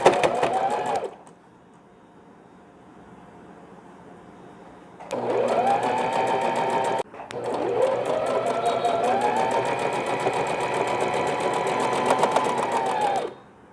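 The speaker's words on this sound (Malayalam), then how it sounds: "ഇനി ഈ സൈഡും പ്രസ് ചെയ്ത് സ്റ്റിച്ച് ചെയ്യുക." A sewing machine stitches stretchy banian knit fabric for a newborn's ear-covering cap, running in two steady whirring bursts separated by a pause, close and loud with no talk.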